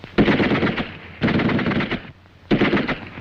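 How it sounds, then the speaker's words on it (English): A German Schmeisser submachine gun fires in a World War II reenactment, three loud, close bursts of rapid automatic fire separated by short pauses. "the sergeant prepares to fire confusing bursts with the Schmeisser"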